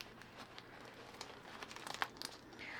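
Tightly wrapped book package being cut and pulled open, with crinkling plastic and paper rustles and a few sharper tearing snaps toward the end, close and fairly soft.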